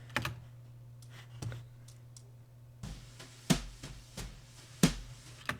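A soloed snare drum loop in Ableton Live plays sparse, sharp hits over a low steady hum, quiet overall with a few louder snaps standing out.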